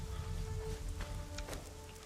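Light rain in the video game Conan Exiles, a steady soft patter of drops with a few sharper ticks, constant and fairly close, with no talk over it.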